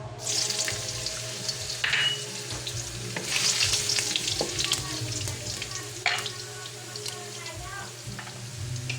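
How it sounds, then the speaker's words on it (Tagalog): Ginger dropped into hot oil in a heated clay pot, sizzling and crackling steadily with occasional stirring clatter and a bright burst of frying midway, close and fairly loud. "Mainit na po ang ating palayok. Naglagay na rin po ako ng kaunting mantika. Ilalagay na natin ang ating luya."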